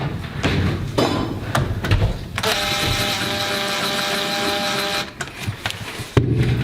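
A screw is driven into a shed door knob with a steady mechanical whir lasting a few seconds, set between scattered handling knocks and clicks on the wooden shed door.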